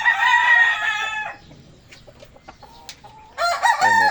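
Rooster crowing loudly close by at the start and again at the end, with scattered soft clucks and pecking sounds from farm chickens in the quieter stretch between.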